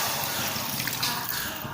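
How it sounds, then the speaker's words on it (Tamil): Water poured into a pan of Gobi Manchurian gravy made with cauliflower, onion and capsicum, giving a steady close splashing trickle that runs unbroken for under two seconds, with no talk. "மிக்ஸ் பண்ணி விட்டுட்டு இதில் வந்து ஒரு 2 கப்பு தண்ணி சேர்த்துக்கோங்க."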